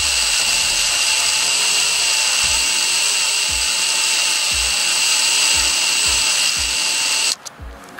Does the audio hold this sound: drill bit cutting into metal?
yes